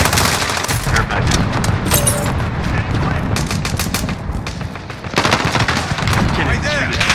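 A gunship opens fire in the video game Call of Duty: Modern Warfare, sending out loud, sustained bursts of heavy automatic fire and rumbling impacts that fill the whole stretch.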